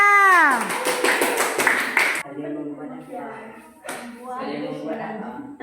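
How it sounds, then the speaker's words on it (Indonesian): A classroom of junior high students applauds a student group after its presentation, a brief burst of dense clapping that gives way to a teacher speaking. "Oke, tepuk tangan untuk kelompok 3."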